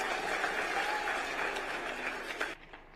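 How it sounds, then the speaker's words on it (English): A crowd at a university chancellor installation ceremony applauds after a dignitary's speech, a full, even wash of clapping that cuts off abruptly near the end. "Another round of applause for His Excellency for that wonderful speech."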